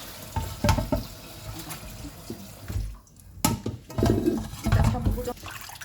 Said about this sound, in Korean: 찬물에 씻어가지고 기름 째고 가지고